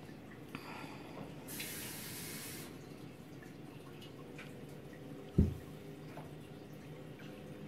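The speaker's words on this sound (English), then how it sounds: "Fill the bowl in the art tray with water" Water runs steadily from a tap into a container, a continuous close splashing hiss with one brief louder knock partway through.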